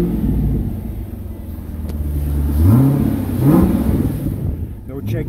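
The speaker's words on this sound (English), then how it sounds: "Let's rev her up." The engine of a 2004 Chevrolet Corvette is revved twice, two rising blips over a steady low idle rumble.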